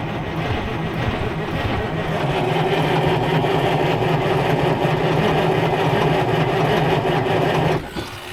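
A Detroit 8V71 two-stroke diesel with straight pipes in a 1973 Freightliner cabover cranks over steadily for about eight seconds, a loud continuous droning rattle that cuts off abruptly near the end.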